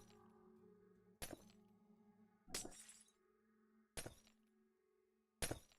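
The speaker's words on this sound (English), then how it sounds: "How many people out there really like the sound of this glass breaking?" In a video game, a glass-breaking sound effect plays four separate times, each a sharp crash and shatter spaced about a second and a half apart. Soft, steady tonal game music plays underneath.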